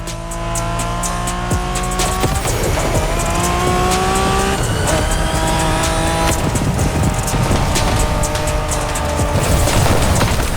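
Cars driving in The Crew Motorfest racing game, engines revving and shifting through gears with repeated tire squeals and skids, loud and continuous with no talk.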